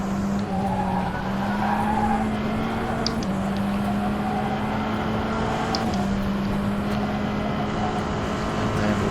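Racing car in a racing game at the Dijon circuit, engine droning steadily with tyres squealing and skidding under braking into a corner, loud and continuous throughout.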